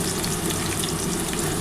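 Onion frying in hot oil for fried-onion garnish, a dense, crackling sizzle heard up close and steady for the whole short stretch, alone without any voices.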